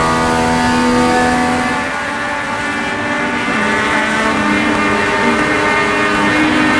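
A race car engine screams steadily down the backstretch at Portland in the iRacing video game, a loud close buzzing drone with a slight dip in pitch midway before pulling hard again.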